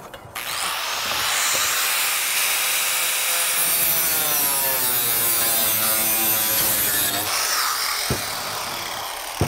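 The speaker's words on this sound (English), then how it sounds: "Let's go cut the siding for this piece" Vinyl siding being cut with a saw, one continuous loud close rasping cut lasting most of the clip, ending with a short clatter.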